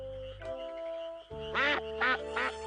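Cartoon bird quacking like a duck, three loud nasal quacks in quick succession after a brief musical tone, with no talking.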